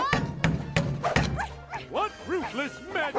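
Cartoon puppies bark and yip in a burst of sharp barks at the start, followed by whimpering, rising-and-falling yelps over voices.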